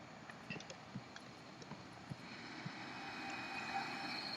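A helicopter arrives in Jurassic World: Evolution, its rotor and engine drone rising steadily over ambient game sounds, with scattered soft clicks and taps early on.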